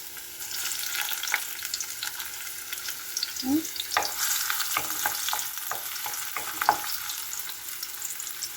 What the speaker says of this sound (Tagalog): Lagay na natin yung bawang, sibuyas,